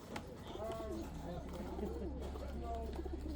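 Birmingham roller pigeons coo softly in a few low, wavering calls over a steady background hum, fairly faint.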